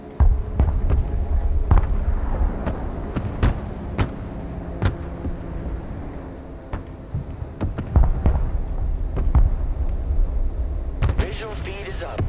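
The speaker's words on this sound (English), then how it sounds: "Providing direct fire." Direct artillery fire in the video game Broken Arrow: scattered loud blasts and thuds punctuate a rumbling combat backdrop, with radio-style voice lines heard alongside.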